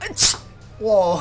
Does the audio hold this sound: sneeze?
yes